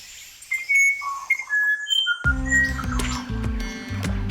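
Birds in the Amazon rainforest call with a series of bright, close whistles and chirps at varying pitches. A low, droning musical backing then enters beneath further tweets.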